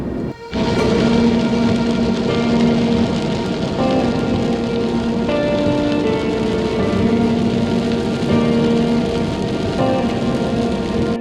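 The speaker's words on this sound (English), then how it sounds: "It's about to pour down heavily." Heavy rain from an approaching rain front hammers down in a dense, loud, continuous roar that starts abruptly after a brief lull, with faint tonal hums running underneath.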